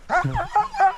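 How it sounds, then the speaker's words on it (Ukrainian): An injured, healing dog yips and whimpers in a few short, high-pitched cries, close by and fairly quiet. "Це Пес Барбос"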